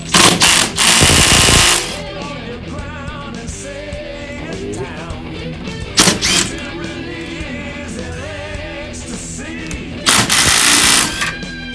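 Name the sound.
drill working on Dodge Charger front suspension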